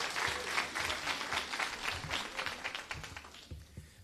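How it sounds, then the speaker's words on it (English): An audience at a Dr. Martin Luther King Jr. oratorical contest applauds school staff with steady, dense clapping from a crowded hall that fades slightly toward the end. "give my beautiful staff a round of applause"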